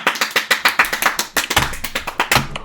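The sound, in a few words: audience applause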